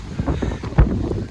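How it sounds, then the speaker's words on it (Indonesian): Strong storm wind buffets the microphone on Mount Bawakaraeng at dusk, a loud rumbling roar with irregular gusts over about a second. "angin semakin kencang"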